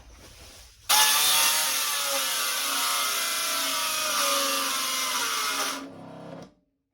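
A battery-powered saw cuts into a butcher block countertop for a tiny house kitchen, a loud, steady buzzing whine lasting about five seconds, with the pitch sagging as the blade bogs down under load, then stopping abruptly.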